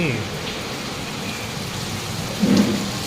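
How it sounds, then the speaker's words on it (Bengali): Heavy rain pours down in a dense, steady hiss in a deep Dooars forest, with a brief low rumble swelling near the end. "প্রচণ্ড বৃষ্টি পড়ছে, প্রচণ্ড বৃষ্টি।"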